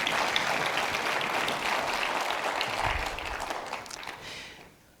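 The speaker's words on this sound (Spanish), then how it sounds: "Fuerte aplauso, Javier, esta tarde." Steady applause from a church congregation, dense and sustained, fading out toward the end.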